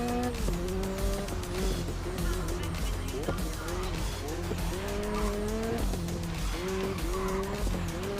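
Race car in the video game GRID Legends, its engine screaming through repeated gear shifts while the tires squeal and skid under heavy braking, loud and continuous over the whole stretch.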